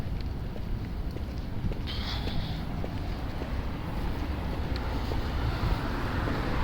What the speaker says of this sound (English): Hey, at least there's a little wind.